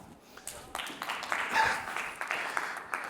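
A scattered round of audience clapping at a Rotaract club showcase, with many claps in an uneven, loosely rhythmic spread, moderately loud, with a voice faintly underneath.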